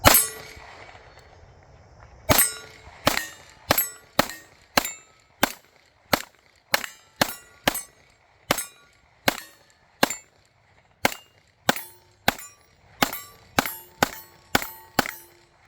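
Gunshots from an Oracle Arms 2311 pistol at a shooting range, about twenty sharp reports fired one by one in a steady, fairly quick rhythm, each loud and close with a short ringing tail and no talk over them.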